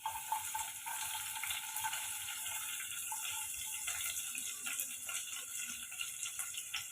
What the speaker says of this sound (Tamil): வெங்காயத்தையும் பச்சை மிளகாயும் ஒரு 2 நிமிஷம் வதக்கி விட்டு எடுத்துக்கோங்க.